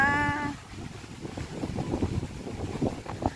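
Strong wind gusts along the Lachine Canal walking path in Montreal, a loud, steady rumbling roar buffeting the microphone throughout, with a brief voice at the very start.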